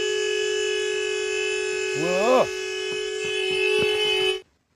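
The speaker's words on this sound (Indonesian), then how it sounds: "Taiko dikagetkan dengan suara klakson mobil yang berbunyi" A car horn sounds in a tense night scene from the film Night in Paradise, a steady sustained blare held for several seconds under a brief voice-like swoop and some faint knocks before it cuts off abruptly.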